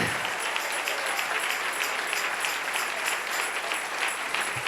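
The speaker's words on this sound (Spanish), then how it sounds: "Dale un aplauso al Rey" A church congregation claps in a sustained, full round of applause that holds at an even, moderately loud level for several seconds.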